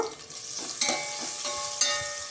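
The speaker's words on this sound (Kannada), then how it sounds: "ಅದು ಚೆನ್ನಾಗಿ ಬ್ರೌನ್ ಕಲರ್ ಬರಬೇಕು. ನಾವು ಅಲ್ಲಿವರೆಗೂ ಫ್ರೈ ಮಾಡ್ಕೋಬೇಕಿದು." Sliced onions frying in oil toward brown for an egg biryani, a dense continuous sizzle with two brief louder bursts as they are stirred, with no talking.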